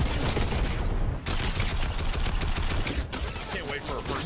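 Airstrike gunfire in Fortnite Creative 2.0 rattles as a dense, continuous fusillade of shots and blasts, loud and close, with players talking over it.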